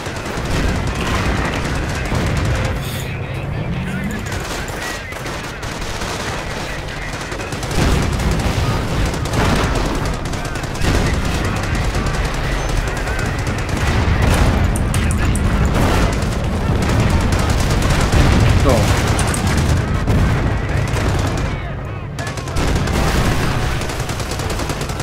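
An artillery barrage and gunfire in the Company of Heroes video game, with booming explosions and rattling machine gun fire layered continuously over a heavy battlefield rumble, loud and sustained.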